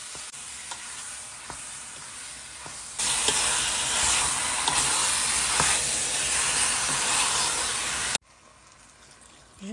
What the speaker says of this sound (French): Je remue pendant 10 minutes à feu fort.